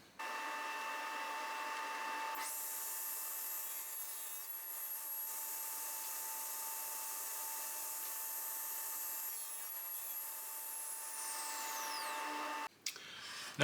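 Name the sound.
power saw cutting wood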